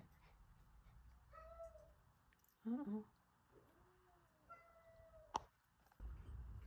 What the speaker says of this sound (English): the cat's just got in a fight